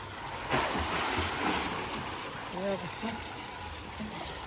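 Water rushes steadily into a farmhouse pool with a constant splashing hiss, while faint voices come and go in the background.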